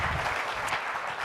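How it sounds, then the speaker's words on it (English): Steady audience applause fills the whole moment, a dense wash of many hands clapping at a live talk, loud and continuous with no voices over it. "Thank you so much for the applause."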